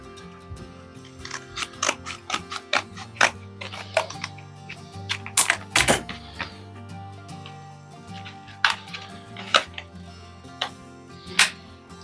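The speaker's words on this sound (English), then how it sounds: "we need a pair of scissors to cut this open" Scissors snip and cut through packaging for a new PC build, a run of sharp clicks and crisp cuts, some close and loud, spread unevenly across the stretch with no talking.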